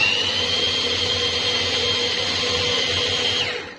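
Kitchen blender grinding red peppers, a loud continuous high whirring motor that runs steadily and then winds down at the end.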